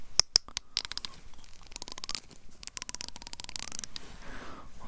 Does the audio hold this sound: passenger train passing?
no